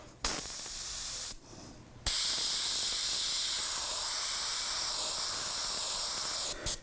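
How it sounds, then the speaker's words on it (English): Airbrush spraying purple paint onto a T-shirt, a steady close hiss running in two long continuous bursts with a short pause between, no voices. "I'm going to lightly spray some purple into it"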